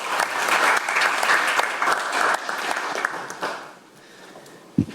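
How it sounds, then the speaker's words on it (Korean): Audience applause welcoming a professor to the podium at a Korean policy forum, a dense burst of clapping that fades away over the last second, ending with a single thump. "큰 박수로 모시겠습니다"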